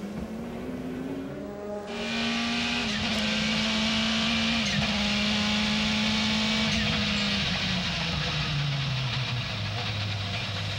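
A sports racing car's engine roars loudly at Laguna Seca, pitch stepping down through downshifts into turn two, with a high whine and a brief squeal.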